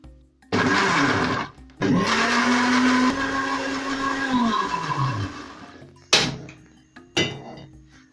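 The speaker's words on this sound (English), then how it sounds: "I'm going to start off by blending my tomato" A kitchen blender purees fresh tomatoes in loud whirring bursts, the motor pitch sliding as it runs for several seconds, then stopping and restarting in two short pulses.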